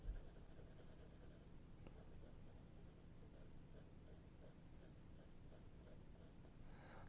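Steady, soft scratching of an HB pencil shading on paper, continuous and close, with a faint hiss and no talking.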